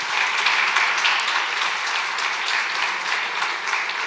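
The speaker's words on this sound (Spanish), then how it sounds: "Aplausos." Steady applause from an audience of guests at an educational event on integrating ancient cultures, a dense, even wash of clapping that fills the whole stretch without pause.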